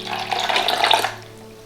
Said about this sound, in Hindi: अंडे डाल के 1/2 कप दूध